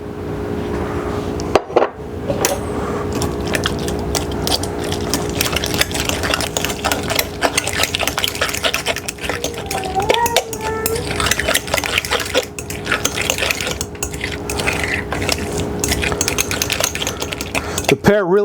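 Cream cheese and minced pear are stirred together in a mixing bowl, making a steady, close scraping and clinking sound that runs without a break.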